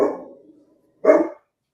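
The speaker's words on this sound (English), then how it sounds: "I couldn't hear over the dog." A dog barks twice nearby, two short loud woofs about a second apart, heard alone with no talk, during a visit where someone is selling crates.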